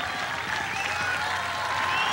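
Audience applause at a live Mexican music tribute event, a dense steady wash of clapping from a crowd, loud and sustained throughout, with faint voices mixed underneath.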